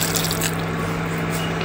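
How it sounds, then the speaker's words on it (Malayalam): Water, one cup, poured into soaked rice batter in a grinder jar for oothappam, a short steady splashing pour close by. "1 കപ്പ് വെള്ളം വെച്ച് കൊടുക്കുന്നുണ്ട്."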